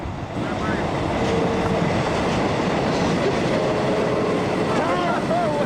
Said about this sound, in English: Bloody trains! I'm sick and tired of these bloody trains.